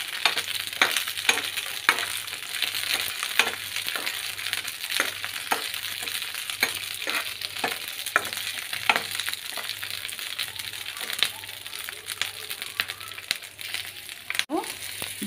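Green chillies fry in hot oil in a pan, giving a dense, steady sizzle with frequent sharp pops and crackles, close and loud, while a low hum runs underneath.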